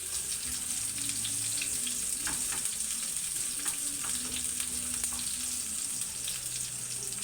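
Shrimp paste (bagoong alamang) with garlic sizzles and crackles steadily in a pan, a close, continuous frying hiss with no talking.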